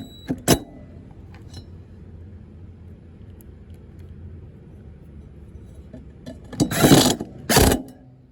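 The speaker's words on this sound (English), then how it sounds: "You might have to use the screws to kind of draw it in, so you want to tighten it evenly." A ratchet tightens screws on a Hustler mower deck pulley, with an early sharp click, a long quiet stretch of low rumble, then two loud bursts of ratcheting clicks near the end, close up.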